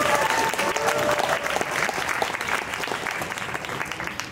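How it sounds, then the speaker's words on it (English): Sustained applause from an audience at a faculty dessert night after a performing group, a dense, steady clatter of clapping hands that stays loud throughout and tapers slightly at the end. "Another round of applause"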